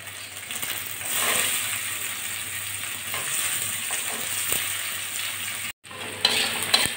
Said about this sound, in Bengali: পেঁয়াজ রসুন একটু ভেজে নিয়েছি